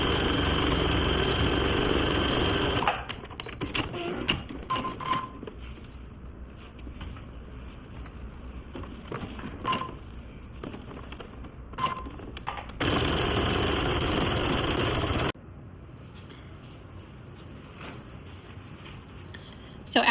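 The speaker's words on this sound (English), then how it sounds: "So I'm top stitching the top of the pocket edge." Home sewing machine topstitching along the top edge of a quilted coat pocket, running in steady bursts between short pauses, with a louder continuous stretch near the end.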